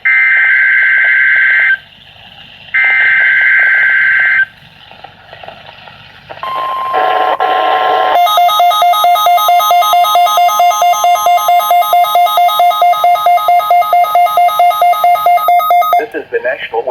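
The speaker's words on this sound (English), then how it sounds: "The preceding signal was a test of the public warning system on weather radio station WWG 73." NOAA All Hazards weather radio station WWG 73 public warning system test from the Indianapolis National Weather Service office: two short bursts of a two-tone attention signal, a brief gap, then a long loud steady single-tone alert that runs for about eight seconds before cutting off.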